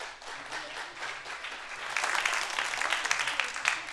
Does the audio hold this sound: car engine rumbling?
no